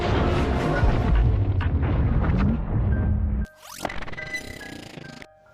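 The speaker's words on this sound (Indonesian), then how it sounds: "kapal selam itu pun seketika meledak." A submarine explodes in the film The Meg: a sustained, loud rumbling blast roars for several seconds, then cuts to a quieter, ringing aftermath with tonal hums and debris noise.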